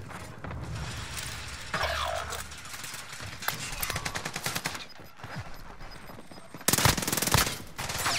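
Gunfire in the Warzone video game, with bursts of automatic fire and scattered shots at varying distances and a loud close burst near the end, amid mechanical game sounds.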